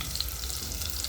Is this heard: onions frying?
yes